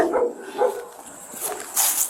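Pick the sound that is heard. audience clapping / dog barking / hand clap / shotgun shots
dog barking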